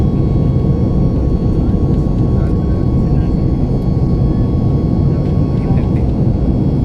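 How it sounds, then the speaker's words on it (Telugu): Steady, loud broadband roar of an airplane engine in flight over Bangalore, a constant droning hum with no pauses throughout. "ఫ్లైట్ బెంగళూరుని క్రాస్ అవుతూ ఉందన్నమాట"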